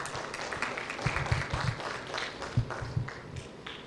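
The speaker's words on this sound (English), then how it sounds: "Big round of applause." Audience applauding at a school TED-style talk event, a steady wash of many hands clapping at moderate distance, fairly soft, with a few louder claps standing out.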